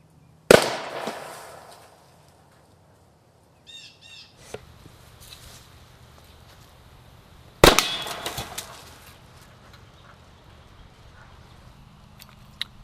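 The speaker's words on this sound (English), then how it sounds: "So let's fire it a couple more times." Homemade PVC vacuum cannon with a 3-inch end cap firing, two sharp loud bangs several seconds apart with clattering and ringing debris after each.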